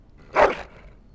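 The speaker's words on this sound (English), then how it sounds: "That is a wonderful dog." A single short dog bark from the fantasy video game Dragon Age Origins, heard alone in a quiet castle setting.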